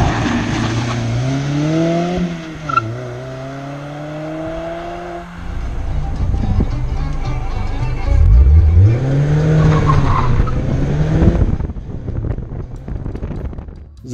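A Mazda sports car's 2-litre, 160-horsepower engine revs up and down through rising and falling pitches on a Montenegro mountain road, passing close with wind buffeting and a louder surge near the end.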